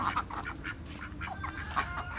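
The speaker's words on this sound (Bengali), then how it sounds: "এই দেখেন আগে বাড়ির হাঁস ছয়টা হাঁস আছে" A small flock of six domestic ducks at a village home quacks close by in short, overlapping bursts that are fairly loud and repeat throughout.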